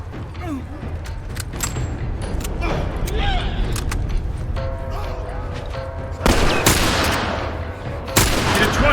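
Gunshots go off in The Last of Us as the last bullets are fired, scattered cracks followed by two loud, sharp blasts near the end, amid game noise and a voice talking.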